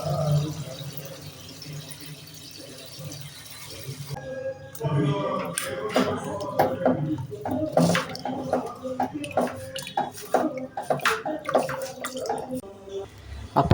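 Water splashes and pours over biryani rice to soak it for a beef biryani, with irregular sloshing and dripping close by after a quieter start.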